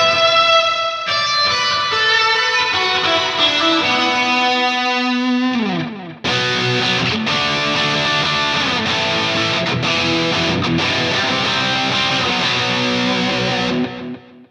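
An electric guitar runs through the reverb effect on a Headrush Gigboard, with ringing, distorted notes and chords trailing long washes of decay, loud and alone, ending in a brief fade.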